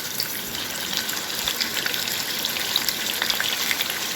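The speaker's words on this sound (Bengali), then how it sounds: "এখন তেলটা দিয়ে দিব। এখন আমি মাছগুলা দিয়ে দিব।" Fish frying in hot oil in a home kitchen gives a steady, close, dense sizzle with scattered crackling pops throughout, and no voices.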